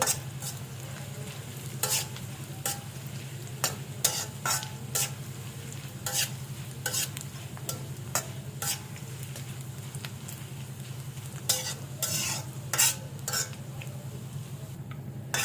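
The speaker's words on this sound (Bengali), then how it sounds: "শুটকিগুলো আমার ভেজে নেওয়া হয়ে গেছে" Dried fish (shutki) frying in a pan, with a low, continuous sizzle under quick, regular scrapes and taps of a spatula against the pan.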